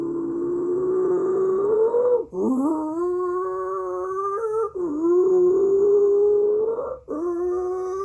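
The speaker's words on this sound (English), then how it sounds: "Here's a howler monkey roar." Howler monkey roar played back through a smart speaker, three long, loud, wavering howls separated by short breaks, with no talking over them.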